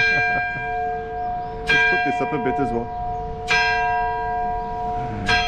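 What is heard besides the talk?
bells ringing at St Publius Church, Floriana, Malta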